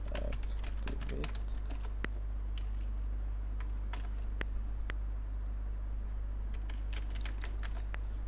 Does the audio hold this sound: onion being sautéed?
no